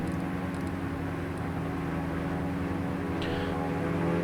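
Airplane engine in a flight simulator game, a steady loud propeller drone with a constant hum holding level through the clip, alone without talk.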